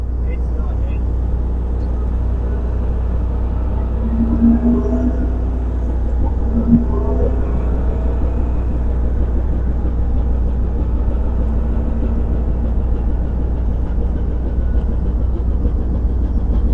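A ship's engine running at dead slow ahead during docking, a low steady rumbling drone that holds constant throughout, with faint voices and brief clanks in the background.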